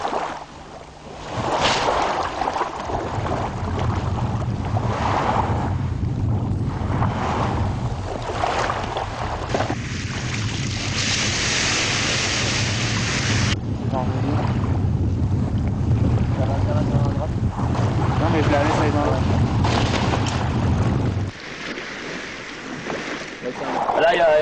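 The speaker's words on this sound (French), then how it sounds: "c'est le vent de 11h qui se lève" Gusting wind sweeps over Lake Titicaca at a kite-surfing spot, buffeting the microphone in loud, uneven bursts. Water and boat noise sit underneath, and voices speak at times.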